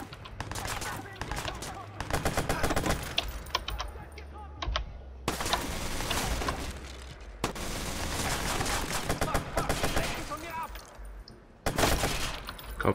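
Rapid bursts of gunfire from the shooter game Watch Dogs, loud and dense, with volleys of shots that stop and start through most of the stretch over a steady game backdrop.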